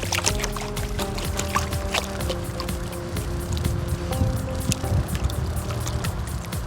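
Water sloshing and splashing steadily as a gold pan is swirled and washed out, a continuous close wet churning with small drips and pours throughout.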